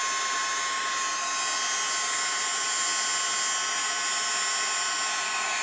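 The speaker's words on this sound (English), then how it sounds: "So I'm going to start my heat gun, and hopefully you will be able to see the change." A heat gun blows hot air in a constant, high, hissing whine with a steady fan drone. The sound is loud and unbroken and plays alone, with no talk.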